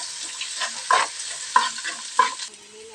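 Ginger and green chilies fry in a pan for an irumban puli (bilimbi) pickle, a steady close sizzle with three sharp stirring scrapes of a spoon against the pan at regular intervals, and no talking.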